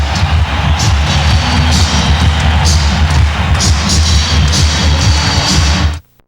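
An NBA playoff arena crowd at America West, Suns against Lakers in 1993, roars in a dense sustained wall of cheering with scattered bangs and whoops throughout, cutting off abruptly near the end.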